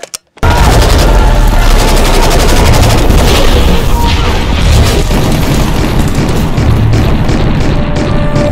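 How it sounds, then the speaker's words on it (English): Rapid gunfire from a rifle fed by a custom 29-round magazine, a loud dense barrage of booming shots that starts abruptly and keeps hammering without pause to the end. "Man, that's a lot of firepower going downrange"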